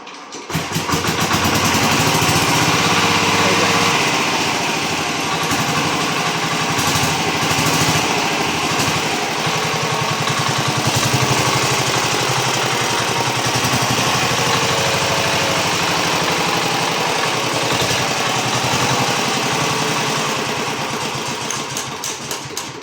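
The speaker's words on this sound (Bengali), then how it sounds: "আমরা জেনারেটারটা স্টার্ট করব" A 3.5 kW generator with a 6.5 hp engine is started and runs: a loud, close, steady mechanical engine drone continuing unbroken at a constant pitch, without talk.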